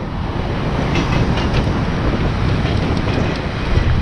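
Train passing close by near Toronto's downtown waterfront, a loud continuous rumble with clattering wheels and wind buffeting the microphone throughout.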